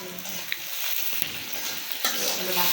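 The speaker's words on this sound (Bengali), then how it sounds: "আমরা লবণে তেলের উপরে ভেজে নেই" Salt frying in oil in a village kitchen, a steady close sizzle with a few light scrapes and taps of a stirring utensil.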